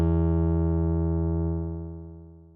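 An Outersect Modeler synth note with gate-modulated resonator decay: one loud, steady, harmonically rich tone that holds for about a second and a half, then fades smoothly away after the key is released.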